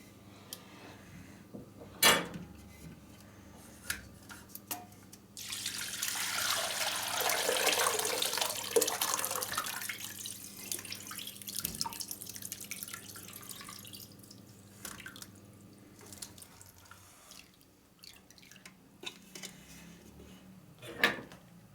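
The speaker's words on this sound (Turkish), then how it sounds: "süzgecimizi içerisine bir bez torba koyduk ve şimdi çökeliğimizi süzüyoruz" Whey drains from çökelek curds through a cloth bag set in a strainer, a soft continuous trickle and patter that swells in the middle, with occasional clinks and no talking.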